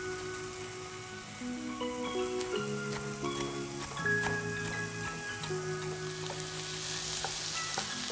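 Vegetables sautéing in a pan for maque choux, a steady soft sizzle and crackle beneath sustained background music tones, with no talking.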